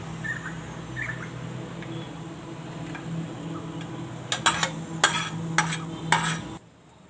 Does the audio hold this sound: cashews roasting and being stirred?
yes